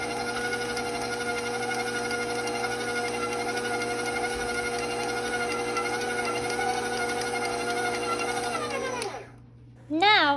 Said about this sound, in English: I'm going to start my mixer on the lowest setting so that none of the flour mixture flies out of the bowl.